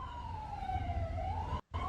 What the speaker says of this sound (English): So, sirens in the distance, police and ambulances are coming.